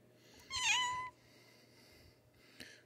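A cat named Coco lets out a single drawn-out, plaintive meow while being held, followed by a short faint chirp, close by and otherwise quiet.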